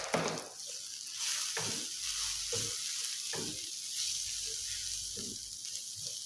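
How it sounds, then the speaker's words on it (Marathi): Turmeric, Kashmiri red chili powder and cumin seeds sautéing in oil in a pan for paneer bhurji, a soft steady sizzle with periodic scraping stirs, close and fairly quiet. "व्यवस्थित परतून घ्यायचं आहे तेलामध्ये."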